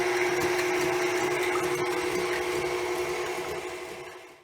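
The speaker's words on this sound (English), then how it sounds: "You will need to start your mixer on a low speed till egg whites form a foamy texture." An electric mixer runs at low speed beating egg whites, giving a continuous close steady whir with a faint tonal hum that fades out near the end.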